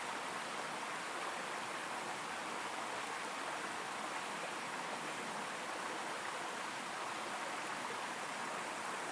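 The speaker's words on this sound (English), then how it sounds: "Notice the return of the sound of the water around me." A steady, even rush of flowing stream water fills the whole stretch, constant and unbroken, with no voices or other sounds.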